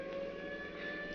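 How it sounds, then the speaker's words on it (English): Police siren in a 1949 classic American radio mystery drama, sounding as a steady, loud, sustained wailing tone with no voices over it. "that's a police siren."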